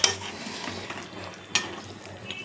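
Fish fries in a pan with a continuous soft sizzle, broken by two sharp utensil clinks against the pan, one at the start and another midway.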